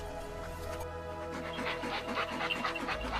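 Kangal shepherd dogs pant in quick rhythmic breaths close by, soft and continuous, with a faint whimpery edge near the end.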